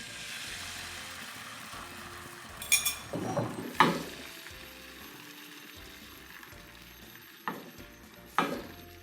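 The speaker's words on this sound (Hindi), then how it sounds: "दो अंडों को फेंट के तो अब इसके अंदर डाल दूंगी" Two beaten eggs cook in a frying pan with a low, steady sizzle, broken by a few scattered clinks and scrapes of a utensil against the pan, heard up close and quietly.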